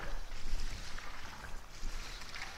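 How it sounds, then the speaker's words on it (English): Soft, steady splashing and sloshing of water as an antique rug with moth damage is rinsed, with gentle swells of rushing water. "And again, you have to do a thorough rinse like this."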